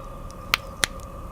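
Pumpkin seeds toasting in a hot pan give two sharp, isolated pops about a third of a second apart, each crisp and clicky like a small cap going off, close by over a steady low hum.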